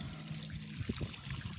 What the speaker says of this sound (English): I'm just gonna wash it off.